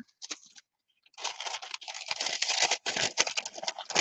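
Tissue paper, laid on wet alcohol ink and curling, crinkles and rustles close by, a brief burst first, then a longer continuous crackling stretch after a short pause.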